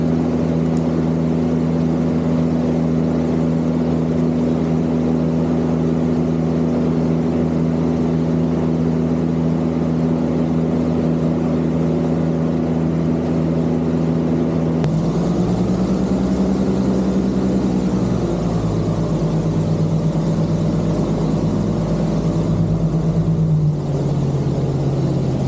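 Airboat engine drones steadily through a swamp ride at Camp Holly, a loud, continuous low roar that shifts pitch partway through as the boat changes speed, with no talking over it.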